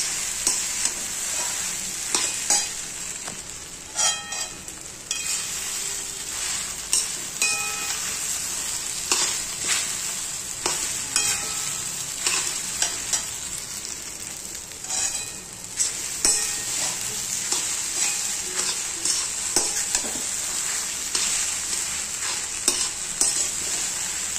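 Fasting khichdi with potatoes stirred in a kadhai for a Navratri meal: a soft constant sizzle and frying hiss under repeated scraping, clinking spoon strokes against the pan, close and fairly quiet, with no voices.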